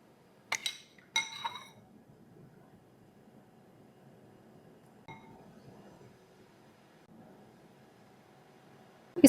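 A metal spoon clinks twice in quick succession against a dish while egg mixture is spooned for sandwiches, close and distinct, followed by a fainter tap and a last sharp knock in an otherwise quiet kitchen.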